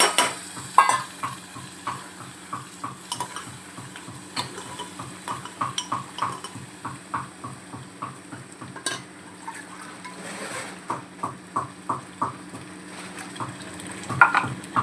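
Cooked misal stirred into frying masala and oil in a pan, a spoon scraping in a steady rhythm of repeated strokes over a constant sizzle, with occasional metallic clinks, close up and no talk.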